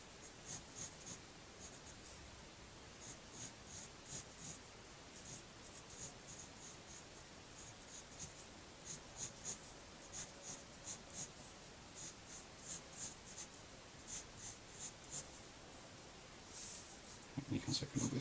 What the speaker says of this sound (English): I'm just going to sketch in a little bit right in the middle of this.